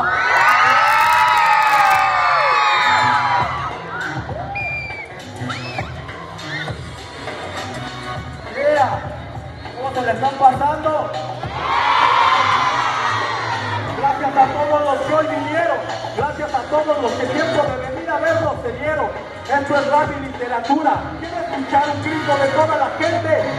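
A large crowd at a song and spoken-word show cheers and shouts loudly, with high-pitched screams and whoops swelling in waves amid a steady roar of voices.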